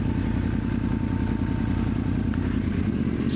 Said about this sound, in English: the bike's engine noise